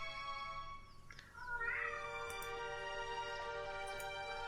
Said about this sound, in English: that is one of my cats begging to be let outside